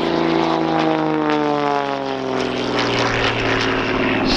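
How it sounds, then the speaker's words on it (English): An Xtreme Air XA41 aerobatic plane with a six-cylinder air-cooled 315 horsepower engine and large propeller roars loudly at an airshow, its propeller drone shifting in pitch as it passes close by. "the vertical knife is literally just hanging on for the big, big engine there, like 10580 Thunderbolt, 315 horsepower"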